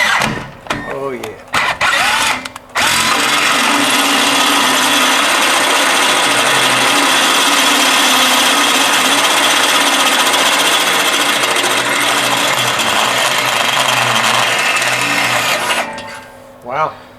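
A drill bores into a stainless steel exhaust pipe during a converter install on a car, grinding loudly and steadily for over ten seconds, with brief voices and clatter before and after.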